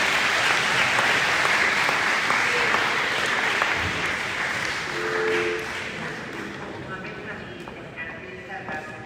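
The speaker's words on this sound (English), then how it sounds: "Clap for me." An audience at a school district breakfast applauds loudly, a dense wash of clapping that stays strong throughout and then eases slightly toward the end, with some voices mixed in.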